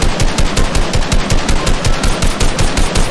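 Rapid automatic gunfire in the video game Fortnite, a dense run of evenly spaced shots going on for several seconds, loud and unbroken, with nobody speaking over it.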